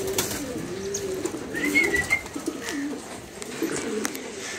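Pigeons in a loft coo in low, repeated murmurs alongside some fluttering and a brief higher chirp as they are handled, moderately close with steady background noise.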